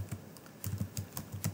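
Rapid, close typing on a computer keyboard, a steady patter of light key clicks in an otherwise quiet room with no talking.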